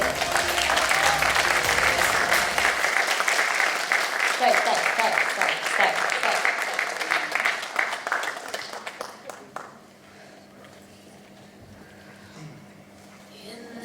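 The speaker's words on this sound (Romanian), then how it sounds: "Bravo, aplauze!" An audience applauds after a temple dance demonstration at the Sundari Tantra School. The loud, dense clapping slowly thins and fades out, leaving a quiet room where one voice briefly speaks.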